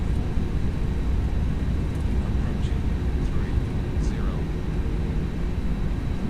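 Airbus A319 engines spooling up for takeoff in the X-Plane 11 flight simulator, a steady broadband rumble throughout with faint tonal whines above it and voices talking.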